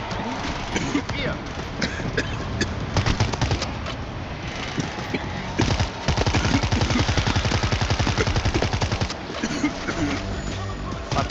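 Gunfire in the zombie shooter World War Z comes as rapid automatic bursts and scattered shots, loud and rhythmic, over game ambience, with someone talking at times.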